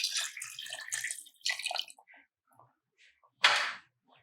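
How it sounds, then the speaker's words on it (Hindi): Water poured into a pot of mutton korma (royal Rampuri style, about 1 kg of meat, cardamom powder added), heard as a couple of short splashing pours with a louder final splash, close and with no talk. "लगभग 2 गिलास पानी का प्रयोग किया है मैंने इसमें।"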